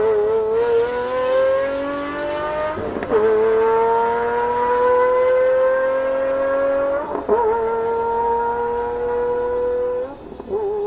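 A Pagani Zonda sports car engine sings with a loud, steady rising tone, pausing for brief shift-like breaks around three, seven and ten seconds before climbing again, with no talk.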